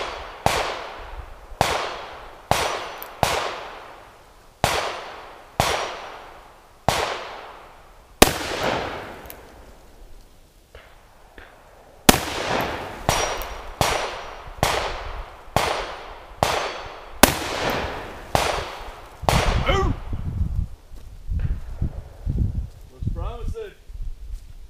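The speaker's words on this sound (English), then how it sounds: "Be shooting about 10 yards away." Rapid rimfire gunshots at a playing card from about 10 yards, a long string of sharp cracks in uneven bursts with a short pause midway, loud and close, and talk near the end.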